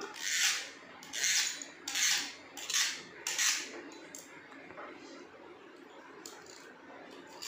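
A knife scrapes and cuts through rolled-out kara thukkada dough in five short rasping strokes, then fades to faint scraping.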